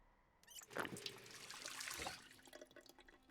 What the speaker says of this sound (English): Let's see if the water's still running.